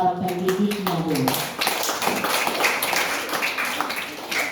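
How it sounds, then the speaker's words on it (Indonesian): A crowd applauding the teachers at a PAUD early-childhood cluster gathering in Periwari district, Fakfak, West Papua, steady clapping with a voice speaking over it at the start. "Kita beri aplaus untuk para pendidiknya dulu."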